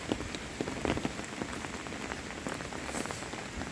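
Autumn rain falls steadily, a dense patter of drops striking a surface with scattered sharper splashes, close and even throughout with no voices.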